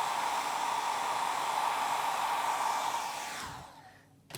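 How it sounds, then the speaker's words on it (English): A hairdryer blows with a steady, loud rushing roar during fifties victory-roll hair styling, then winds down and cuts off near the end, followed by a brief rustle. "And yes, that's right, the hairdryer."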